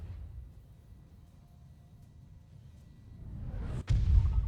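A single heavy artillery cannon blast in a BattleTech video game booms out near the end, preceded by a low rumbling hum, with a deep roar lingering after the shot.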